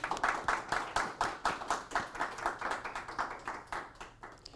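A small audience claps to welcome a speaker onto a show, a rhythmic run of fairly steady, evenly spaced claps close by that gradually thin and soften toward the end, without voices over them.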